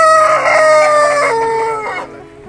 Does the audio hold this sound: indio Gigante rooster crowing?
yes